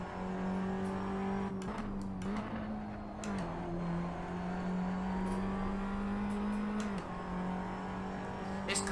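Formula 4 race car engine in a racing video game at Brands Hatch, a steady close drone that shifts pitch with throttle changes, with brief gear-change blips and no talk over it.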